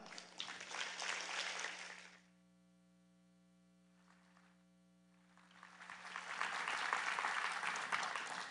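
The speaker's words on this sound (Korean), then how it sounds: "우리 강사 목사님, 최낙종 목사님 오셔서 말씀 증거해 주실 텐데 등단하실 때에 우리가 보낼 수 있는 최고의 박수로 목사님 맞이하겠습니다." A church congregation at a revival service claps in a dense burst, fades to near silence over a steady electrical hum, then breaks into louder, sustained applause.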